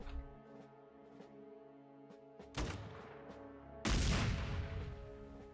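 SKS rifle shots in the X-Com Files game, two sharp loud cracks a little over a second apart that stand out over a quiet tonal music background, the second blast bigger and longer.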